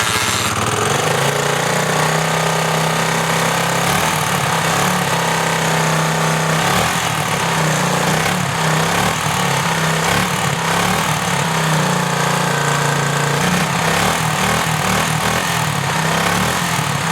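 An old motorcycle engine with its stock exhaust runs steadily, loud and close, with a rapid, even chuffing pulse throughout.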